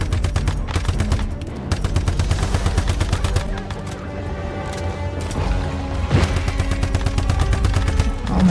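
Enemy gunfire in a video game's solo event mode rattles in long rapid automatic bursts, dense and loud, with occasional heavier impacts mixed in across the whole stretch.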